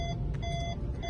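Steady electronic beeps from an aftermarket parking sensor on a 2023 Honda Civic RS repeat over low road and engine rumble inside the car.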